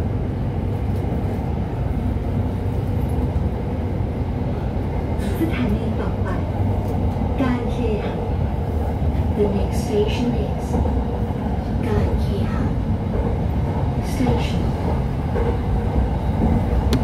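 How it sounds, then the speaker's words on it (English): An SRT Red Line train rolls out of Don Mueang International Airport station in Bangkok, heard from on board as a steady low rumble with rhythmic wheel clicks and faint squeals, a voice briefly speaking over it. "we're now on board the train on the SRT red line. So we're ready to depart Dan Mong"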